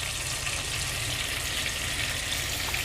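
Mutton tikka boti skewers frying in melted butter in a pan give a steady, even sizzle with a soft crackle throughout, close and moderately loud, with no talking.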